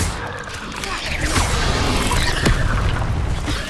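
In the Hogwarts Legacy video game, an Incendio fire spell is cast as a loud whooshing roar with a rumbling boom, building and sustaining for a few seconds, close and full.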